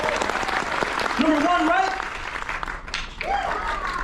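An audience on a cruise ship gives scattered applause at a pool trick show, a thin patter of clapping under someone speaking into a microphone.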